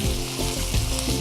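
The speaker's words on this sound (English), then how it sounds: "Nice little sizzle." Curry-marinated chicken sizzles and fries steadily as it browns in a hot pan, a loud, close, continuous crackle with no talking.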